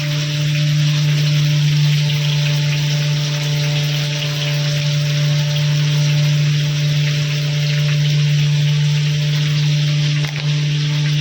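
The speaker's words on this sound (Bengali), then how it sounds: "তো আলুটা ভাজতে দিয়েছি তেলে, তো একটু হলুদ দিয়ে আলু ভাজা হালকা।" Potatoes fry in oil with turmeric and salt, giving a steady close sizzle under a constant low electrical hum, with no talking.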